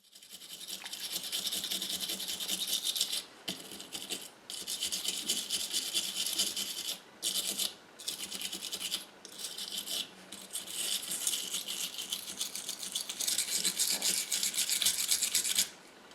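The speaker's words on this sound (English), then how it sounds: "I'm also going to use the wire brush just to clean the rust and the axles before I treat the base." A wire brush scrubs rust from the axles of a die-cast Dinky Toy Ford Zephyr 162 model car, a steady, hissing, bristly scrape kept up close for long stretches with a few brief pauses.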